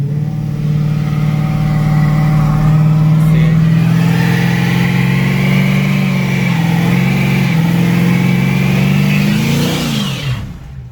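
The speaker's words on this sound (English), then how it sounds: "that's if you want to do a burnout. Now you have all that smoke." A 2012 Dodge Charger engine held at high revs during a burnout, a loud, close, sustained roar with its pitch wavering and climbing briefly before dropping off at the end.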